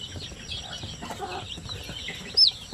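Soft, low clucking from a native chicken hen mingles with faint chick peeps, ending in one sharp high chirp close by.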